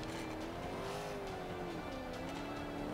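Race car in Forza Motorsport 5, a rear-wheel-drive build, driven into a turn under braking, with a steady loud engine tone that dips and climbs again and faint tire noise.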